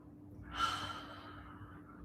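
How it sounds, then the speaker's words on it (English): A slow, deep breath during a Pilates class, one long airy exhale that swells and then fades over a low steady background hum. "Just take a few more big deep breaths like this, just observing."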